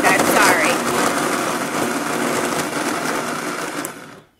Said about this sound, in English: I'm going to blend this down so it looks like, kind of like a dough